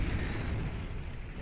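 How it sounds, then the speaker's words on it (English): A Starlight unit in the strategy game Beyond All Reason goes off in a deep, rumbling explosion that stays loud and dense throughout before easing slightly at the end. "there's the explosion from a Starlight"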